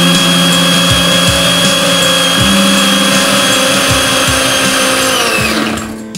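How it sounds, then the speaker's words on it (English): A kitchen blender runs loudly and close by with a steady, high-pitched motor whine and rhythmic thumps as the contents churn, then the motor winds down and stops at the end. "Having worked with blenders for a lot of time in my life, I know don't run them forever and ever and ever."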